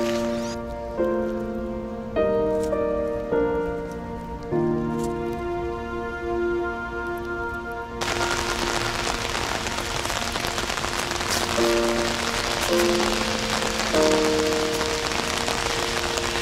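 Steady rain falls in a dense, even hiss that takes over after a stretch of soft, sustained tones, continuing alone to the end.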